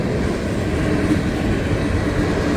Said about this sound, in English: There you go, CSX manifest train.